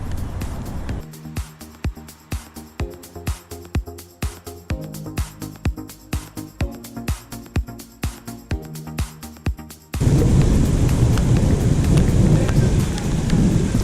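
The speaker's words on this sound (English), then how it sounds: "the rain is starting to come down" Rain starts falling at a bluegill fishing spot, first as scattered drops over a rhythmic tapping pattern, then abruptly becoming a loud, dense, continuous downpour hiss for the last few seconds.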